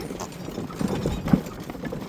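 Horse hooves clop a few times during a preparatory horse ride, with the strikes landing unevenly and moderately close over low background noise.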